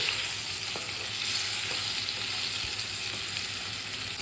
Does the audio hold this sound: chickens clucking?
no